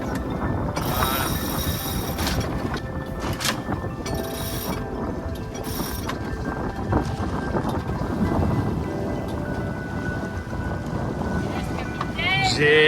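Sailboat moving under sail with wind gusting across the microphone and water rushing along the hull, a continuous loud roar with people talking over it.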